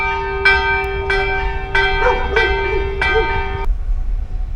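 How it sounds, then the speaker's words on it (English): A loud church bell in El Cocuy, Boyacá, Colombia strikes about five clear tolls roughly every half second to a second, each with a ringing harmonic tail, then fading out. "as you can hear, they have a church bell."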